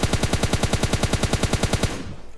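Rapid automatic gunfire in a video game fires from just ahead, a loud, steady stream of about twenty evenly spaced shots over two seconds that stops abruptly and leaves a fading tail.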